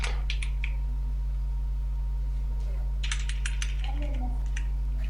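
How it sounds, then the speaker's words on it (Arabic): Short bursts of typing on a computer keyboard while entering text in Photoshop, with light, quick clicks close by against a steady background hum, quiet and without talk. "ثم نكتب هنا داشبورد"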